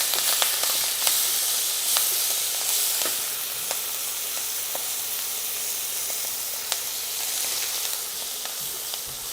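Fenugreek leaves hit hot oil with garlic in a pan, giving a loud, steady sizzling hiss with scattered crackles and pops throughout.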